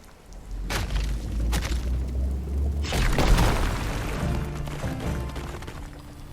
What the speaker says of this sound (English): See if we can do a rock explosion here.